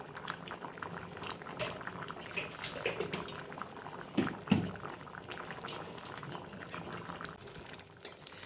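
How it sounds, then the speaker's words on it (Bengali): Peas and potatoes for ghugni boil in a pot, a continuous bubbling and popping with small liquid splashes, close but quiet and without talk. "মটর আলু খুব ভালোভাবে ফুটে গেছে"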